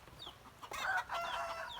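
Chickens cluck and squawk nearby in short bursts, with a few higher calls; no talking.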